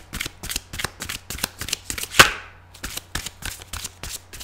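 Tarot cards shuffled by hand in a steady run of crisp riffling bursts, close and loud, with one sharper snap near the middle and no talking.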